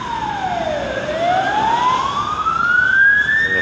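A loud ambulance siren wails continuously, its pitch sweeping down then slowly rising, with low traffic rumble beneath and no voices.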